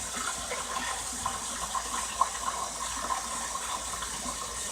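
White rice is rinsed in running water, a steady close splashing and gushing stream with soft swirls and small knocks, no voices.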